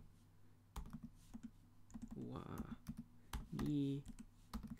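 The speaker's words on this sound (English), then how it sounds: "but I will actually type it" Someone types on a computer keyboard with scattered key clicks, while someone speaks over the typing.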